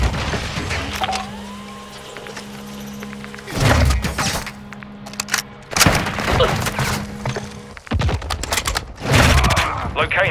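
Enemy gunfire in a video game: several loud bursts and volleys at irregular intervals over a steady low drone, with faint game voices in the background.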